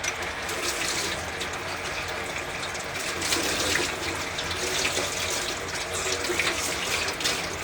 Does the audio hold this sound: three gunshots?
no